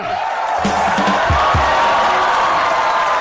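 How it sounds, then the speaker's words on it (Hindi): Studio audience applause and cheering on the Indian comedy talk show The Great Indian Kapil Show, a dense steady wash of clapping with a few whoops and low thumps, sustained throughout. "तालियां।"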